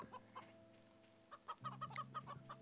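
Minecraft chickens clucking in a multiplayer SkyBlock game, a series of short, faint, evenly spaced clucks over a soft background hum, clustering more densely toward the end.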